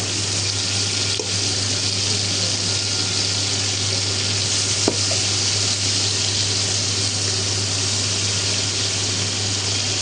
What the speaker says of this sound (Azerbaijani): Tez-tez fırlayırsan, tava yaxşı qızmalıdır ki, ətin şəhi qırılır.